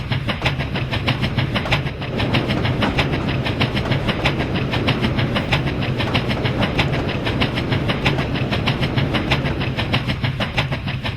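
A China Railways QJ Class steam locomotive in Train Simulator 3 hauls freight with a steady, fast clickety-clack of wheels over rail joints beneath a constant engine rumble, loud and close, with no talking.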